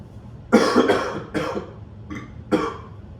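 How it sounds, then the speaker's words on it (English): Several harsh coughs in quick succession, fairly close and loud, with short gaps between them; no speech. "I don't know why I'm coughing so much"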